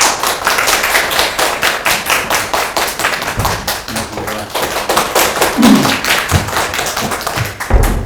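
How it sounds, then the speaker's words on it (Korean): Audience clapping in a lecture hall to welcome a teacher onto the stage at a Korean high-school English information session, dense and steady throughout with a few louder thumps near the end. "모시면 큰 박수로 맞아주시기 바랍니다"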